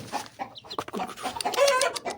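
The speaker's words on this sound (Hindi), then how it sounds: "असील मुर्गा देख रहा है इनको" Aseel chickens and their chicks cluck in short, close bursts, with a few higher peeping notes from the young birds mixed in.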